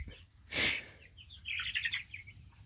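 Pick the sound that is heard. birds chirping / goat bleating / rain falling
birds chirping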